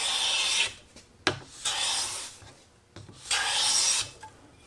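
A hand bench plane shaves a wooden board in several long rasping passes, broken by short pauses and a sharp knock as the plane is set down or repositioned, close and clear with no talking.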